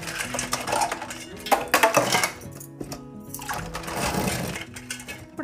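Crabs are washed in fresh water in a kitchen vessel for an Indian-style crab curry, with close clattering of shells and splashing scrapes in uneven bursts and no talk.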